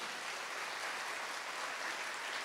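A congregation at a Catholic church service applauds in a faint, even wash of clapping heard from a distance, steady throughout with no voices over it.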